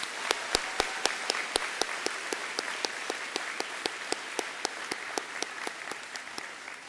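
A graduation audience applauds a row of graduates, steady crowd clapping with one nearby pair of hands beating out a clear, regular rhythm over the softer general applause.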